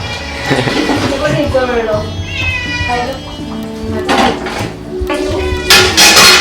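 A house cat meows several times at close range, with drawn-out, rising and falling cries, while people talk nearby.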